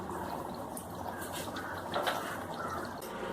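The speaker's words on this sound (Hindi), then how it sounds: "अब इसमें हम डालते हैं 1 कप पानी" Water poured into a simmering crab masala with coconut paste in a home kitchen, a steady close liquid splash and trickle over the pan's low bubbling, no voices.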